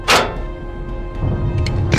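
A heavy tank cannon in a tank simulator game fires a subcaliber round, giving a single loud, deep thump at the start, followed by low rumbling cabin noise and a second impact near the end.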